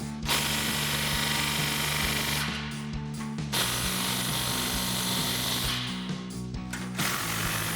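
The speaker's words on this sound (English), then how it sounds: "So first we'll get our crossover clamp tightened down." A ratchet clicks steadily while tightening the crossover and muffler clamps of a dual exhaust system on a Toyota Tundra, with brief pauses in the rapid, close mechanical ratcheting.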